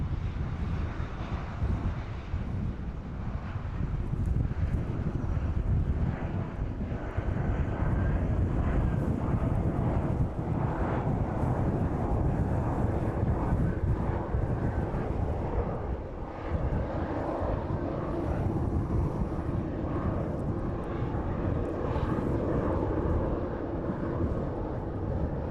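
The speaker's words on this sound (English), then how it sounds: "Aerologic 777 passing by us this evening." An Aerologic Boeing 777 cargo jet passes by at East Midlands Airport in the evening, giving a steady broad roar of jet engines with wind buffeting on the microphone throughout.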